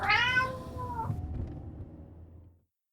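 A cat gives one long, loud, drawn-out meow that bends downward in pitch and trails off, heard close up against a quiet background.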